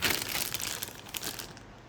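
Packaging for a 16TB Synology NAS hard drive crinkles and crunches up close as it is pried and cut open with scissors, a dense rustle that fades toward the end.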